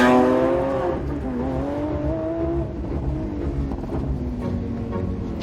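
A Lamborghini Aventador Ultimae's V12 roars loudly and close by, its pitch climbing through a hard rev and then holding in a sustained, rich howl.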